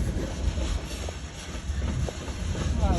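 Long freight train with Chicago Northwestern cars rolling past on the Stillwater Central Railroad, a steady close rumble with a low rail drone and faint wheel clatter throughout, with no one speaking.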